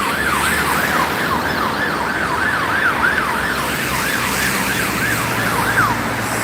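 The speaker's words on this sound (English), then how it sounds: "Scania fire truck." A Scania fire truck's siren wails in a fast, regular up-and-down warble, repeating steadily and prominently over street rumble in Gloucester.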